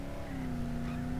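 A truck drives in the Dead Island video game with a steady engine hum holding one sustained tone, fairly quiet and continuous, with no voices over it.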